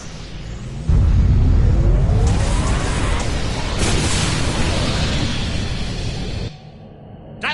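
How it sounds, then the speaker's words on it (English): Overloaded conduits blowing up in the game Star Trek Online, a sudden loud booming blast followed by a long rumbling, crackling roar with debris that slowly fades before cutting off. "If I overload those conduits, I'm sure it'll make a big explosion."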